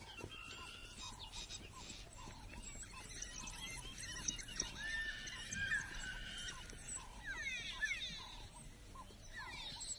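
African wild dogs in a hot floodplain of the flooded Kalahari, giving scattered high squeals and twittering calls over a busy wild background, faint and distant, with bursts of chattering toward the end.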